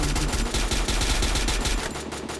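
Rapid, loud automatic gunfire rattles in continuous bursts in the Free Fire battle game, close and dense throughout with no talking.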